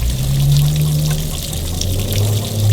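Water pours steadily over an Evinrude 90 HP outboard motor, a continuous splashing trickle that stays loud and close for the whole moment, with a low mechanical hum running underneath.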